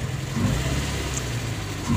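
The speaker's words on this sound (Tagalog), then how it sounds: "Ang ingay ng camshaft." A Toyota Vios engine with a noisy camshaft runs steadily close by, a continuous mechanical hum and clatter with no voices over it. The engine is overheating and misfiring.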